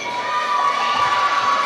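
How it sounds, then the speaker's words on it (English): A Van Buren high school basketball crowd roars and cheers loudly after a made shot late in a close game, shrill young voices included, sustained and dense. "Van Buren crowd on their feet, shots up, good from Sweat."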